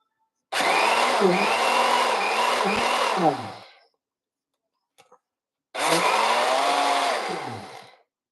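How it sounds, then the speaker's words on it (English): A hand blender whirs loudly for about three seconds, winds down, then after a short pause runs again for another couple of seconds. "this inversion blender is my favorite."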